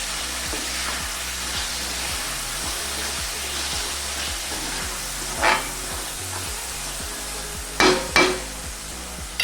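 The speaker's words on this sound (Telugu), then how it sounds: "అల్లం వెల్లుల్లి వేగాక ఇందులోకి 4 టమాటోలు సన్నగా తరిగినటివి వేసుకోవాలి" Chopped tomatoes frying with ginger garlic paste in a pan for chicken handi, a steady broadband sizzle throughout with a few sharp stirring clatters near the end.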